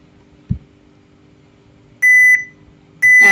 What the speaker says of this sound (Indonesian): buzzernya bunyi, tandanya pencucian telah selesai